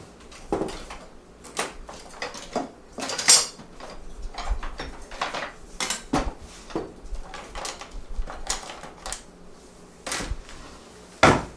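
A spatula and metal pans are handled in a home kitchen while kringla bakes: scattered clanks, taps and scrapes come and go at close range, with no talking.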